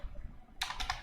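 A computer keyboard clicks in a quick burst of about three or four keystrokes that starts partway through. Before it there is near silence, and the sound is close and fairly quiet.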